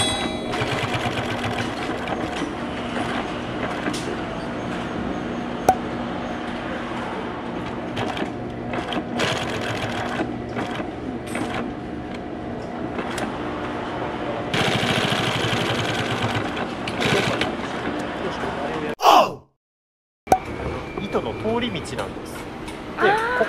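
An industrial sewing machine stitches jeans in an Okayama denim factory. Rapid mechanical whirring comes in bursts, starting and stopping as the pedal is worked, with people talking over it and a short silent gap near the end.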